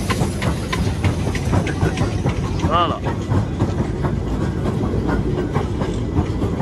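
A steam train at the Efteling theme park rolls past nearby with steady rhythmic clatter and a brief whistle, while a person speaks briefly.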